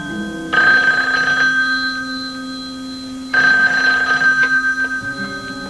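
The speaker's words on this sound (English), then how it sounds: "The phone ringing." A loud telephone rings twice in long electronic bursts with a pause between, close and clear over a low hum.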